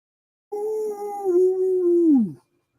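A man imitates a dog howling at the moon, one long sustained vocal howl about two seconds, steady then sliding downward at the end, loud and close with no other talk.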